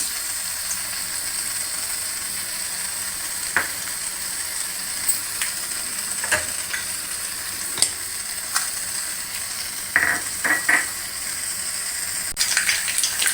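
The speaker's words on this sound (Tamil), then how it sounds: "இது எண்ணெய் ஊற்றிக்குவோம். கடுகு போட்டுருவோம்ப்பா." Steady sizzling of hot oil with scattered small pops and crackles as mustard seeds spit in a pan, continuous and close with no talking.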